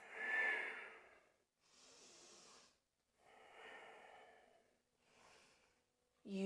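A person breathing slowly during a yoga pose: several long, soft airy breaths separated by short silences, close and quiet, ending with a brief voice.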